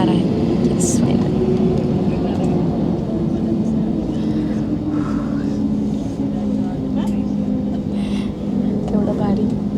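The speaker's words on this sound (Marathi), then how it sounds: "आता आमचं विमान उडणार आहे" An airliner on a Mumbai to Udaipur flight takes off, heard from inside the cabin as a steady loud engine roar and rumble that fills the whole stretch.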